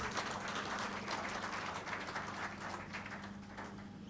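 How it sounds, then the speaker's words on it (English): An audience at a university launch event applauds, giving soft, fairly distant clapping that holds steady for a few seconds with no voices. "Round of applause."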